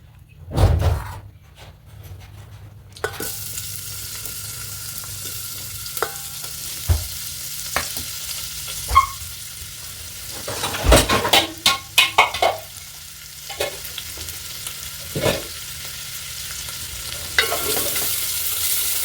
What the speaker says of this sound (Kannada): ಎಣ್ಣೆ ಕಾದಿದೆ. ನಾನು ಫಸ್ಟ್ಗೆ ಈರುಳ್ಳಿ ಹಾಕ್ಕೊಂಡಿದ್ದೀನಿ. ಅಲ್ಲಿ ಫ್ರೈ ಆಗೋಗ್ತೀನಿ.